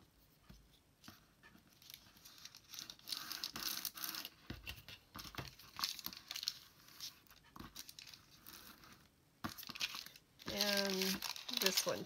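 Paper bag flaps folded and creased by hand against a ruler while crafting junk journal ephemera bags, making crisp crinkles and scrapes that come and go, with a louder rustling burst near the end and speech now and then.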